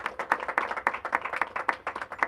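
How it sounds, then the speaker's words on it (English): A small crowd claps steadily at an Easter program, a brisk rhythmic patter of many hands that holds even throughout. "Let us give one big round of applause."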